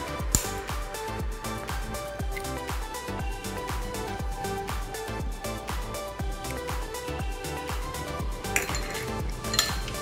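Two eggs with sugar are beaten in a bowl for a carrot cake, giving fast, steady, rhythmic clinking of a utensil against the bowl throughout.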